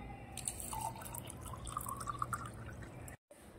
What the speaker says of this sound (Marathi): नंतर आपण यामध्ये बघा थंड पाणी घालून घेऊया